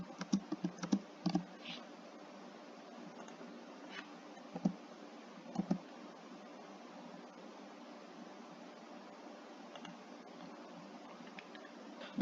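Quiet bursts of keystrokes on a computer keyboard, a few quick taps clustered near the start and a few more scattered later, with long near-silent pauses between them.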